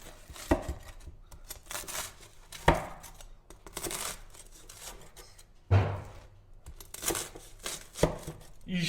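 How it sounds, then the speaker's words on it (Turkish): A knife slices pan-baked toast into small pieces, giving several sharp crunchy cuts at irregular intervals against a board, close and fairly quiet, with faint rustling between strokes. "Başta bir bunu ufak dilimler halinde doğruyorum."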